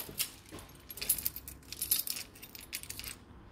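Faint metallic jingling and clinking of keys being handled, soft and close, with no talking.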